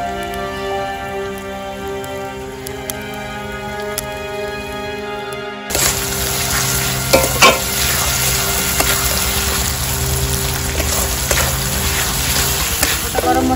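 Spices and onion-ginger-garlic paste frying in a pan while cooking chicken with dried ash gourd, a quiet tone then a sudden bright steady sizzle with occasional stirring clinks and scrapes.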